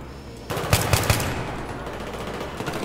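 A short burst of rapid automatic gunfire in Battlefield 3, three or four sharp loud cracks in quick succession over a steady low battlefield rumble, with no talk.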